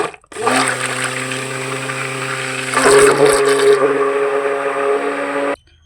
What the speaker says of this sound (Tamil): இப்போ வந்து எப்பயும் போல் ஜஸ்ட் மிக்ஸ் அண்ட் பிளெண்ட் பண்ணிக்கிறேன்